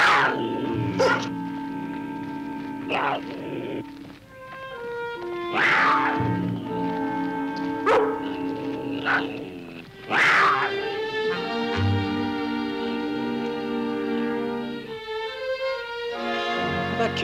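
A wounded cougar lets out several drawn-out, wailing yowls, some strained and rising, with sharp bursts between them, loud and close; a music score plays underneath.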